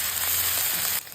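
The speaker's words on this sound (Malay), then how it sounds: "Goreng semua perencah yang ditumbuk tadi sehingga masak." Pounded spice paste frying in oil in a wok for nasi goreng, giving a loud, dense, steady sizzle close up that drops sharply near the end.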